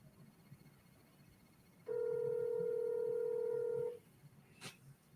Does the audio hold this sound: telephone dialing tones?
yes